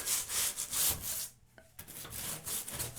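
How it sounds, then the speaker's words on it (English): Narrow-bristled grout brush scrubbing leftover caulk out of a bathroom tub joint, heard as close, uneven brushing and scraping strokes with a short quiet gap partway through. "We're going to take a little grout brush like this. It's got very narrow bristles for digging in."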